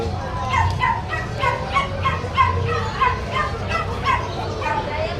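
Several small Pomeranian puppies yip and bark in quick repeated bursts, close by and fairly loud, with whimpery edges. People talk over them.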